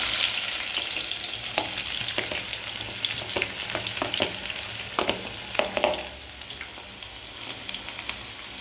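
Two medium onions drop into hot oil and sizzle loudly, crackling with scattered pops as they are stirred, then the frying settles into a softer, steady hiss.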